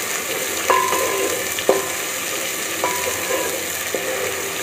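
Onions fry in a pan for a dhaba-style egg and potato dish, making a steady bright sizzle close up, with a few sharp spatula taps and scrapes spaced through it.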